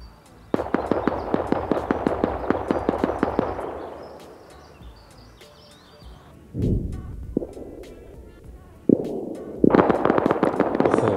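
Rapid gunfire rattles in Rust, a dense string of sharp reports followed by a lull, then scattered single shots and another quick burst, heard at middle distance.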